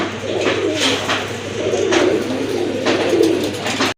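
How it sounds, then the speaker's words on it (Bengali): Koka pigeons coo at close range among other pigeons for sale, a soft, rolling, low cooing repeated in several throaty phrases with faint chirps and background murmur. "এটা হচ্ছে আপনার কোকা কবুতর। দেখতেই পাচ্ছেন আপনারা কত সুন্দর ডাকে"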